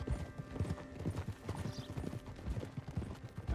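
Horse hooves clip-clopping in Red Dead Redemption II, a steady close rhythm of hoof strikes repeating throughout with no voices.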